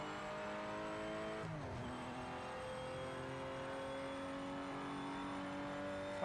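Race car engine in the video game Project Motor Racing holds a steady high drone under acceleration, with one brief dip and recovery, steady and without talk.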